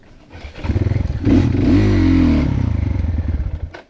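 A motorcycle on a muddy off-road trail sputters and revs hard, rising to a loud sustained roar before dropping back to an uneven, pulsing idle, close by.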